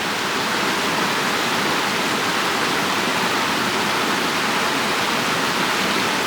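Water from a mountain stream rushes steadily and loudly throughout, a dense continuous wash with no voices over it.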